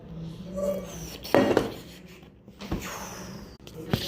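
A pan set down on a stove in a home kitchen, giving a clear metallic clank with a few more scrapes and knocks of cookware afterward.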